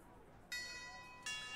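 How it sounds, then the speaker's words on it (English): A virtual wall clock in the PokerStars VR poker game chimes the hour, two bright bell strikes about three-quarters of a second apart, ringing on over a faint hum. "Every time it's a certain hour, the clock goes off and it chimes the number of the hour."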